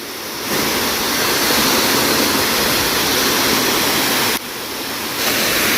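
Waterfall at Curug Batu Alam in Pamijahan, Bogor, set among quarry-stone boulders: a loud, steady broadband roar of falling water, close by and continuous, with brief dips as the listening position shifts.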